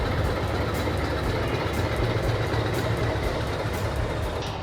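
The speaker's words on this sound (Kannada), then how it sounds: "ಟಾಯ್ ಟ್ರೈನ್ ಆಫ್ ಊಟಿ ಅಂದರೆ ಇದೆ" Ooty's toy train engine rumbles steadily and loudly, reversing slowly, a dense continuous mechanical drone with no pauses and no voices.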